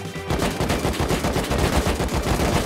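Rapid automatic gunfire from the survival shooter Rust rattles loud and close in a continuous burst of overlapping shots that never lets up.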